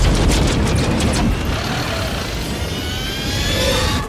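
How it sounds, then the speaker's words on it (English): A street-racing car's engine roars loudly at a race start in The Fast and the Furious, a dense continuous rumble and rush of noise with no voices over it. "They start the race, and the camera goes through Dom's engine"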